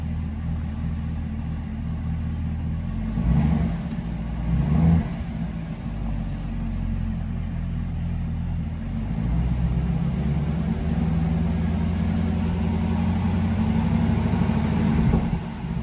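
A Chevrolet Camaro ZL1 1LE with a 10L90 transmission idles with a deep, steady engine rumble, close by and loud. The engine rises gently during a brake-torque hold to about 1500 RPM, then settles back.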